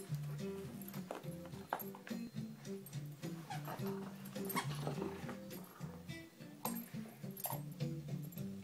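Dog chewing and tugging at a toy alligator to pull the squeaker out, a busy stretch of close rustling, thumps and squeaky yips with faint whimpers and a low background hum.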